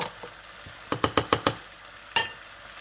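Onion and tomato gravy paste is tipped into a hot pan of spices for chicken karhi, giving a run of five quick wet knocks and sizzles close by, then one more splash a moment later, with no voices.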